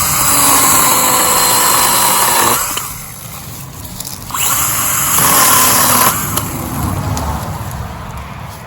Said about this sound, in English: And I've got the little trimmer. Cut low to the ground.